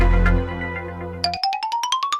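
A mobile phone ringtone plays as a rising series of bright, evenly spaced electronic tones after a low buzzing hum, close and clear with no talking.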